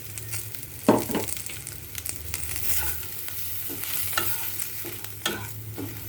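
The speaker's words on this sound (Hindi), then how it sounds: "अब डाल रहे हैं ये सारे स्पाइसेस।" Spices tipped into hot oil in a kadhai over a medium flame for kadhai paneer, then stirred: a soft sizzle under repeated scraping spoon strokes, with a sharper clatter as they go in, close and fairly loud.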